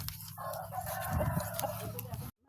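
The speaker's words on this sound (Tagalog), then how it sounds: "Manok." On a desert animal farm a rooster crows among clucking chickens, close and fairly loud over a steady background hum, ending abruptly with a brief silent gap.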